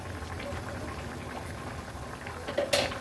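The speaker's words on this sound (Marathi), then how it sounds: "कालवणाला पण छान उकळी आली आहे." Soft, steady bubbling of a dried tiny-shrimp curry simmering in a pot over high flame, with small pops and a brief louder splutter near the end.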